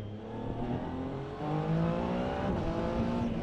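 A Triumph Tiger Sport 800 motorcycle engine revs hard through quick-shifter gear changes. The loud, near engine tone climbs, drops abruptly at each shift, then climbs again, with no talking.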